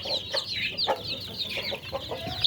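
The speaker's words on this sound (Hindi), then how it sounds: "जैसा कि आप देख रहे हैं वो मुर्गियाँ खा रही हैं" Several chickens clucking and murmuring close by as they eat scattered grain such as millet, with frequent short overlapping clucks throughout and no talk.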